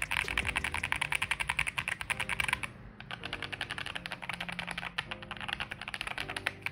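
Rapid, steady clacking of keystrokes on a Monka 3067 mechanical keyboard, heard up close with a short pause partway through, alone with no talk.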